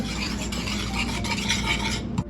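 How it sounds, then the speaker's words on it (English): A whisk beating a cornstarch mixture in a medium saucepan makes rapid, continuous close-up scraping and rattling against the metal pan throughout. "You're just gonna whisk this until it's well combined"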